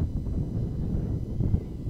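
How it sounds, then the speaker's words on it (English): Strong wind gusts buffet the microphone at an outdoor softball game, a steady, loud low rumble with bursts of flutter and no clear talk. "this might be the most violent the wind has been all day"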